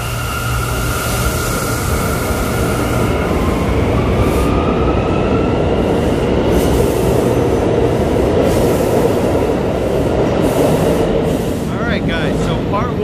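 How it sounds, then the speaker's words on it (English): An R179 subway train on the IND 8th Avenue Line in Manhattan pulls out of a station with a loud, steady rumble of wheels and motors. A rising tone runs under the roar, and a brief squeal comes near the end. "Just gonna watch this train leave."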